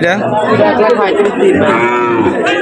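A cow lows loudly and close at a busy cattle market for sacrificial animals, one long drawn-out moo over faint crowd chatter.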